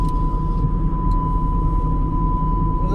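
An open car door's warning chime sounds as a continuous steady electronic tone over loud road and engine rumble inside a moving project car.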